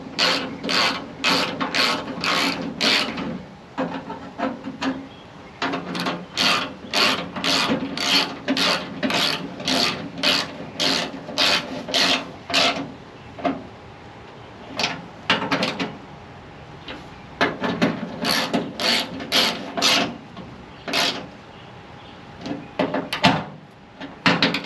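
Ratchet wrench tightening a 13 mm bolt, a long run of rapid clicking strokes in bursts with brief pauses, close and loud, no talking.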